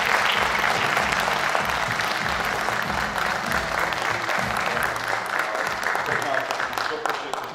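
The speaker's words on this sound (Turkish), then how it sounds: "sevgili Murat Özdeniz, ona da şöyle kuvvetli alkışlar bir şekilde." Audience at a memorial evening breaks into strong, sustained applause, a dense crowd clapping that continues steadily for several seconds, with a voice speaking faintly underneath.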